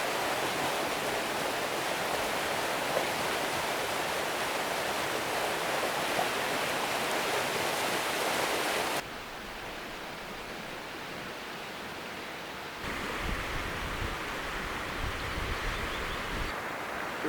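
A river flows right beside a campsite, giving a steady, broad rushing wash that stays constant throughout, dips slightly in level partway through, then returns, with no voices over it.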